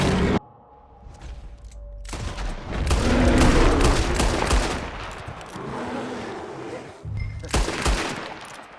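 Gunfire in the Western video game Red Dead Redemption 2: loud, close volleys of shots and rapid bursts crackle in clusters, with short pauses between the rounds.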